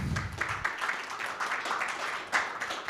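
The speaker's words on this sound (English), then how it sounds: "Round of applause, please." Audience applause at a business media awards ceremony on stage, a steady wash of clapping held at moderate level for the whole stretch.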